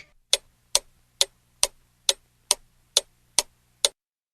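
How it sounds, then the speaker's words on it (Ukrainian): A clock ticks steadily, nine crisp evenly spaced ticks about half a second apart, with a faint low hum underneath and no voices. "Цокає годинник."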